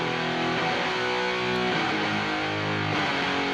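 Two distorted electric guitars play together on a rock track, a dense, continuous wall of sustained chords filling the full range, loud and steady with no voices.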